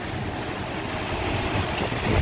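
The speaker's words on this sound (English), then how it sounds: "Some powerful wind gusts." Powerful hurricane wind from Hurricane Sally roars in a dense, steady rush, building slightly toward the end, with no voices.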